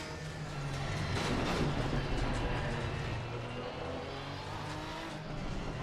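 A race car in Assetto Corsa Competizione lapping at moderate pace on cold tires, its steady engine drone and road noise running continuously and fairly loud, with faint tire sounds mixed in.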